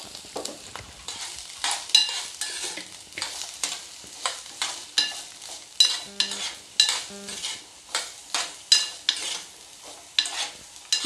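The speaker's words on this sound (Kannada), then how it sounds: "ಈಗ ಇದನ್ನು ಫ್ರೈ ಮಾಡ್ಕೊಳ್ಳೋನು." Onion, ginger, garlic and green chilli fry in oil for dhaba-style chole, with a soft sizzle under repeated scraping stirs of a spoon against the pan; strokes come in a steady rhythm about once a second, close and clear.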